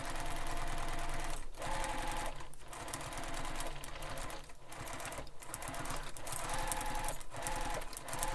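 Sewing machine basting a backpack with a long stitch length, running almost continuously and close, with a steady mechanical rhythm broken by brief pauses.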